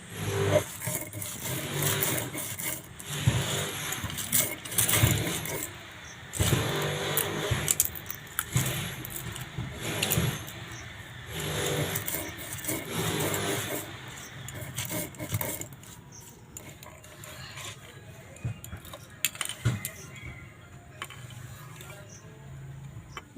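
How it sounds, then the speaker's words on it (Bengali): An electric grinder whirs through whole spices, mustard seed among them, for mango kasundi, running in loud pulsed bursts separated by short quiet gaps, with rattling and clattering nearby. "এবার এই মশলাগুলো গুঁড়ো করে নেবো"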